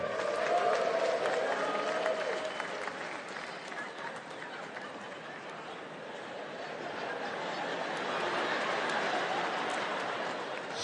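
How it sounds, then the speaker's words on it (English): A comedy club audience at a stand-up show claps and cheers, a steady wash of applause and crowd noise that dips in the middle then swells again, with no clear speech. "Should be a few more y'all clapping."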